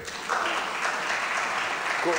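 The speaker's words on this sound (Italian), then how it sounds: "condivido l'applauso" Clapping from an audience at a crime-fiction book event in Pistoia rises after a brief pause and continues steadily for a couple of seconds, a broad patter of many hands with a voice faintly mixed in.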